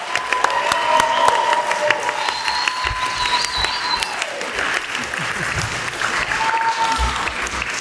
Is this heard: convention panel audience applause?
yes